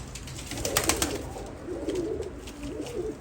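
Pigeons coo in a coop in Istanbul, giving soft, low, rolling calls that repeat in a few close phrases over faint background noise, with no talking.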